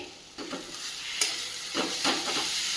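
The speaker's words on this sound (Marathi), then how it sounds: "दोन साधारण दोन मिनटं तरी ही कैरी आपण थोडीशी परतून घेऊयात" Raw mango and rice mixture with salt and sugar sautéing in a pan, a steady hissing sizzle broken by a few bursts of spatula stirring.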